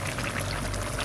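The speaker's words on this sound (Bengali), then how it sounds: "এবার লেবুর রস দেবো" Lemon juice pours into a pot of village-style crab curry, giving a brief, steady liquid splash up close with no voices.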